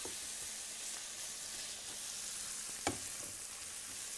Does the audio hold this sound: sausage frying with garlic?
yes